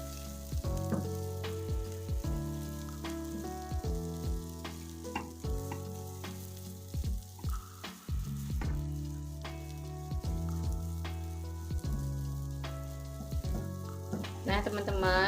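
Ground peanuts are stirred and stir-fried in a pan for a peanut sambal, with a steady sizzle broken by repeated scraping strokes of the spatula at an irregular rhythm, close and clear with no talking.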